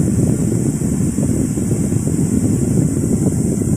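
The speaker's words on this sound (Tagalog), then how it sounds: "ang lakas ng hangin niya tsaka yung lamig niya" Steady, close whooshing of a small mini air cooler fan blowing air, a constant breathy rush with no pauses or voices.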